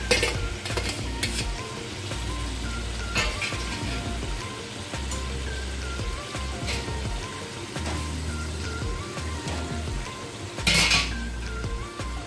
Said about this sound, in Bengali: এবার আমি প্রনগুলো দিয়ে দিচ্ছি,